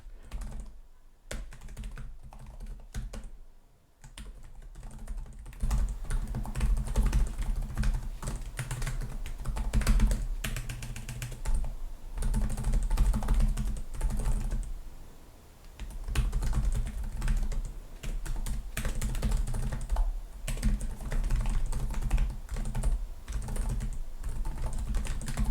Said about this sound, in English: I've already typed on it a bit, but let's give it a quick type.